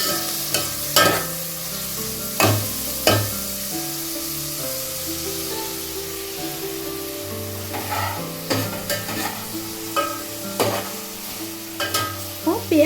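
Whole onions fry and sizzle in a pot for chicken biryani, with steady sizzling broken by repeated stirring scrapes and clinks, close and fairly loud with no talk.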